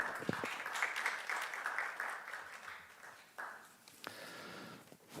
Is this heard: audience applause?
yes